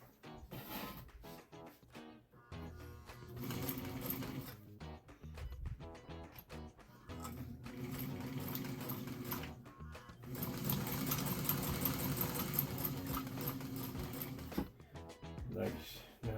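A 1965 White Model 765 sewing machine, once seized with rust, sewing a straight stitch in runs of rapid, even mechanical chatter broken by short pauses, heard up close with some talking.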